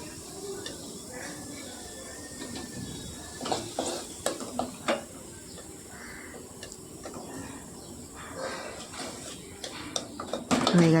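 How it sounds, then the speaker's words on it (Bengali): Potatoes frying in oil give a steady hiss and sizzle, with a spatula stirring and scraping against the pan in clattering bursts that build louder toward the end. "হয়ে গেছে আমার আলুগুলো ভাজা"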